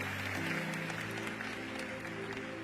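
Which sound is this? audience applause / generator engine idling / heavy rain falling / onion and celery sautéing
audience applause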